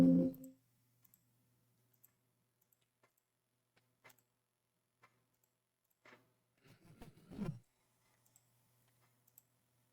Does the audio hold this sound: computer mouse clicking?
yes